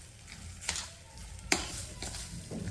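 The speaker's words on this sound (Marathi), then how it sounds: "तोपर्यंत मिक्स करून घ्यायचं आहे, जोपर्यंत ही डाळ छान एकजीव होत नाही" Lentil and vegetable mixture for chiu (chivai) bhaji being stirred in a pan, with a soft sizzle beneath a few sharp spoon scrapes standing out from the steady cooking noise.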